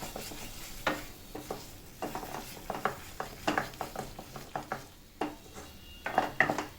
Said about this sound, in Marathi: पुन्हा परतून घ्यायचं व्यवस्थित